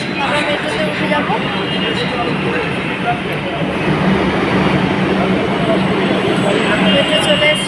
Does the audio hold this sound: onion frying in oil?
no